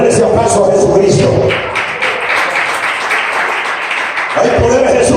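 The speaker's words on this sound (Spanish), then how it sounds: "Denle ese aplauso a Jesucristo." A church congregation applauds at a sermon on the gift of wisdom, a dense wash of clapping with loud voices speaking over it at the start and end.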